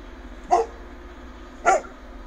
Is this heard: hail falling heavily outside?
no